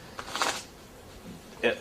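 A deck of playing cards shuffled close by, giving short papery riffle bursts at the start and end of a quiet stretch.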